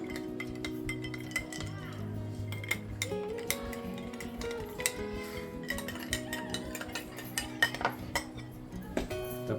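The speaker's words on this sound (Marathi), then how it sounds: "चम्मचीला हलवून घेऊ." A spoon stirring kokum sherbet, light metallic clinks and scrapes against the vessel, faint and close, over a sustained background tone with a hint of voices.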